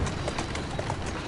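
Horse hooves clip-clop in a quick, steady rhythm, close and fairly loud, over a rough background rumble, in the video game Assassin's Creed Syndicate.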